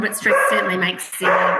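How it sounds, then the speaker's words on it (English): A dog barks and whimpers in short yelps close by, layered under a person talking indoors. "Sorry, that's my dog."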